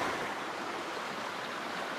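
Steady broadband rush of a river flowing along the North Country Trail in Michigan's Upper Peninsula, continuous and fairly close with no voices.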